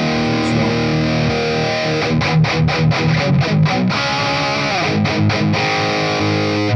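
An electric guitar runs through a Sonicake Warped Dimension modulation pedal with a Detonator overdrive, a loud, distorted, sustained chord followed by choppy rhythmic strums, alone.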